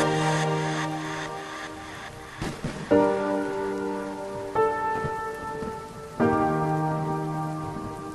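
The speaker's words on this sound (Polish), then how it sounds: "Dalej pada deszcz." Steady rain hiss runs as an added effect beneath a Polish song, mixed softly under sustained keyboard chords that change every few seconds, with no voice singing over it.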